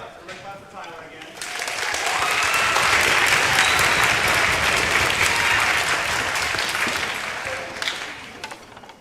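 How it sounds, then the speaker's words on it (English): An audience at a middle school winter band and choir concert claps for a student, with applause rising after a quiet start, holding a thick, even roar of many hands, then tapering off, and a voice speaking over the opening. "Everybody clap for Tyla again."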